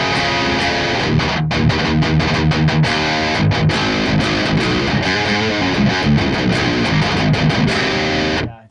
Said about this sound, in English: It has that really nice character of the Mesa Boogie oversized cab.